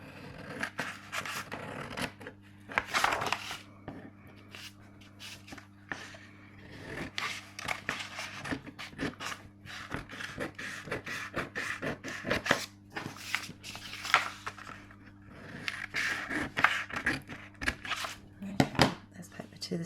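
Scissors snipping paper while a folded paper journal is being made, a series of quick crisp cuts and paper rustles scattered irregularly, close by with faint talk in between.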